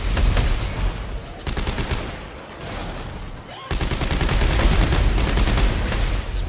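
Rapid bursts of automatic gunfire in the video game Dead Space 3, dense and loud, with a brief lull before the firing resumes steadily.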